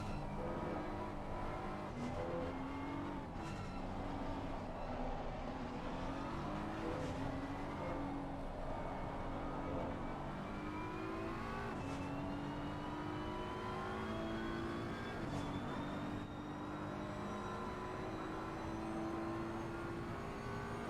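A race car laps Paul Ricard in Assetto Corsa Competizione, its engine droning steadily with repeated gear changes rising and falling in pitch, heard continuously from start to finish.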